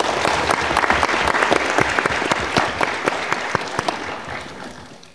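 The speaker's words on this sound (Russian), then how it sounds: "Ваши аплодисменты." Sustained audience applause fills a hall at a Model UN conference at MGIMO, dense and steady with sharp individual claps standing out, gradually thinning toward the end.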